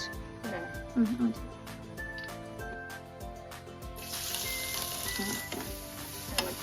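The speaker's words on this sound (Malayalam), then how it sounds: "ഇളക്കി ഇളക്കി കൊടുക്കാം. നല്ലോണം വാടി വരുന്ന വരെ ഇളക്കി കൊടുക്കാം." Stirring and frying in oil in a home kitchen while cooking with chilli powder, a steady sizzle with spoon scrapes, under people talking, the hiss growing brighter toward the end.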